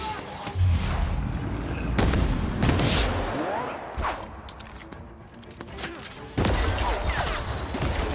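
Gunfire from a firefight in The Outer Worlds: heavy, booming shots and cracks arriving in irregular bursts, loud and close, with a brief lull before a fresh volley near the end.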